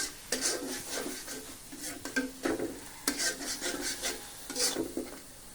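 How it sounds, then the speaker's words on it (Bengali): Food being stirred while cooking, a close, irregular scraping and rubbing of utensil against pan in quick strokes over a faint sizzle. "রান্না নাড়তেছে।"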